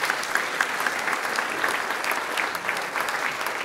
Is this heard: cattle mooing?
no